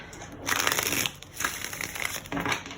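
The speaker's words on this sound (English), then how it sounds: "I'm gonna shuffle." Tarot cards being shuffled by hand during a reading, three close bursts of soft riffling and crinkling paper noise with brief pauses between them, no talking.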